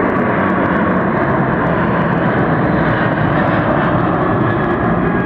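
A large airliner departs Hartsfield-Jackson Atlanta International Airport, its jet engines producing a loud, continuous broadband roar that holds steady throughout at close range.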